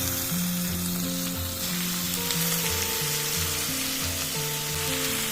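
Prawns sauté in oil with softened onions for a Chettinad prawn kulambu, a loud, continuous close sizzle with stirring scrapes running throughout, no speech.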